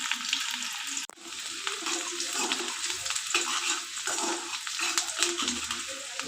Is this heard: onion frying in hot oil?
yes